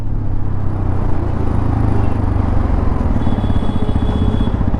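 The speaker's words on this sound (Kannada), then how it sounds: "ಎಕ್ಸಾಸ್ಟ್ ಸೌಂಡ್ ಮಾತ್ರ ಸಖತ್ತಾಗಿ ಕೇಳಿಸ್ತಾ ಇದೆ" A 2025 Hero XPulse 210 200cc off-road motorcycle's exhaust thrums steadily and close while riding, with a continuous low rumble and faint pulsing throughout.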